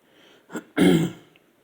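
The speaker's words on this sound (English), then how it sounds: "excuse me, just clearing my throat" A single throat clearing, close and fairly loud, with a short rasp leading into a fuller guttural clearing, then quiet.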